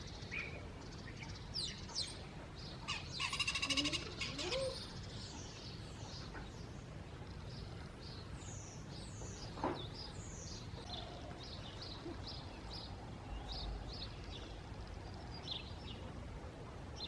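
Birds chirping and tweeting in a quiet garden housing estate at dawn, scattered short calls near and far over a low steady background hum, with a louder flutter of activity briefly near the start.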